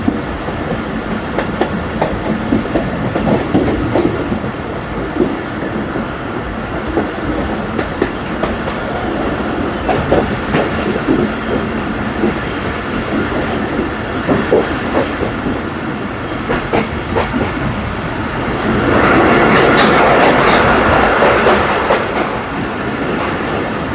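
A train travels on rails in Pakistan, heard from on board as a continuous loud rumble with rhythmic clickety-clack, swelling louder near the end.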